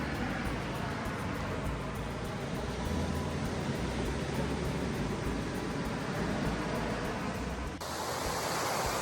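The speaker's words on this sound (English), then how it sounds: "the sound of the waves as you walk along" Constant broad roar of ocean surf washing on the shore along New Zealand's Abel Tasman Coast Track, steady and moderately loud with no voices.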